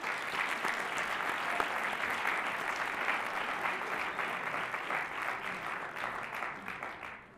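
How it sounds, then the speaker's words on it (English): A student audience applauds a guest speaker, the student body president, at an address: steady, dense clapping from many hands that continues for several seconds before gradually thinning at the end. "So everyone give a big round of applause for Janessa."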